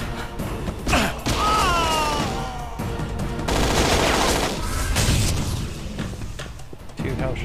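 Gunfire in a tense stealth-action game set at Hochtempelberg Monastery, sharp shots and bursts scattered across a busy mix of clanks, booms and shouted voices, loud and close throughout.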